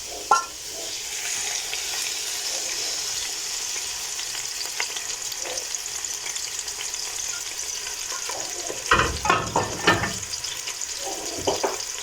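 Onions frying in hot flavored oil in a pot for a rice dish: a steady, close sizzle throughout, with a burst of stirring clatter and scraping near the end.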